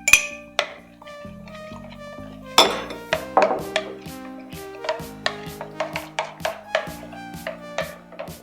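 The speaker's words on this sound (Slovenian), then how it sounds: "Tole premešamo." Bananas, egg whites and maple syrup being stirred in a bowl, with a string of light clinks and taps of a utensil against the dish at an uneven pace under quiet backing music.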